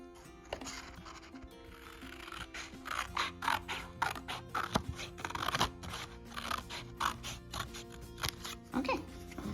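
Scissors snip through a paper giraffe cutout, cutting it in half with a run of crisp, close crunching cuts in steady rhythm over several seconds, set against a faint steady hum.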